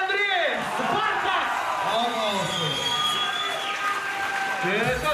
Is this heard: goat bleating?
no